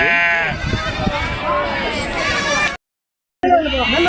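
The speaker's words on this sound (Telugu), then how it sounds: "మొత్తం నలభై మేకపోతులు ఉన్నాయి" Male goats bleat loudly and repeatedly at a crowded goat market in Kunta, with overlapping calls, crowd voices and talk throughout, broken by a brief silent gap.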